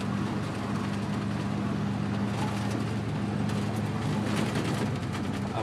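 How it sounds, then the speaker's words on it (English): Hail pelts down during a sudden heavy downpour, a dense, loud, unbroken roar of hard pattering with scattered sharper hits and a voice faintly present at times. "Look at all the hail."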